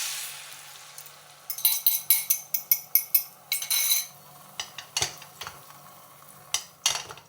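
Eggs cooking in a small amount of olive oil in a pan, with quiet sizzling under repeated scraping and clinking of a utensil against the cookware, sharp close strokes coming in irregular bursts.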